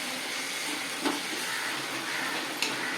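Steady sizzling hiss of onion and tomato sautéing in a pan for a plantain curry, continuous and close, with a couple of faint stirring clinks.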